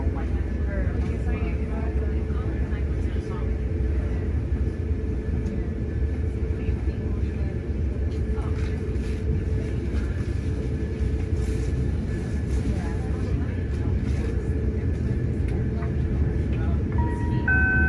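Amtrak Wolverine train 350 pulling out of Chicago: a steady, continuous rumble of wheels and motors that fills the whole stretch evenly, with faint thin tones drifting above.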